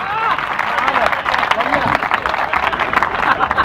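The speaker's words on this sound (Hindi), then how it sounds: "तालियां बजाओ जरा एक बार जोरदार" An audience claps loudly, a dense wash of applause mixed with crowd noise and a voice speaking over it throughout.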